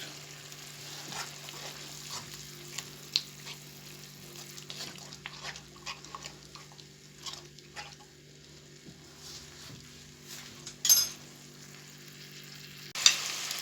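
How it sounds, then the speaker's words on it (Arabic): Sweet and sour sauce with honey bubbling in a frying pan, a soft steady simmer with faint crackles and occasional louder pops and clinks near the end. "لما الصوص ابتدى في الغليان هبتدي ارجع قطع الفراخ في الطاسة تاني"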